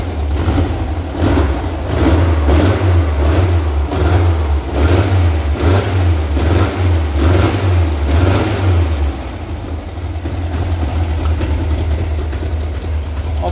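A Volkswagen Type 3 engine on its first start runs roughly, loud and close, with a lumpy, uneven low throb that rises and falls in rhythmic pulses, then settles into a steadier rough idle.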